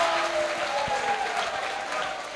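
Audience applause fills a seminar hall during a mental health awareness panel discussion, a steady wash of many hands clapping that holds evenly loud throughout and fades only slightly at the end.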